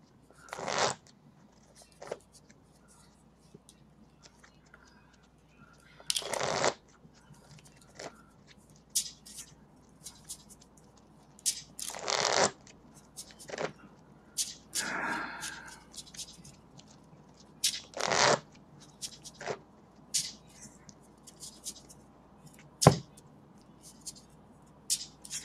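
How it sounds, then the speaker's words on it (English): Occasional brisk riffling bursts from a deck of trading cards being shuffled at an online tournament table, short sharp flurries separated by quiet stretches, close but soft. "Shuffling."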